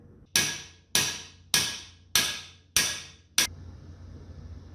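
Five sharp hammer blows, evenly spaced and ringing with decaying metallic tails, drive cam bearings into a Ford 302 V8 engine block, then a quieter sixth tap, loud and close in a workshop.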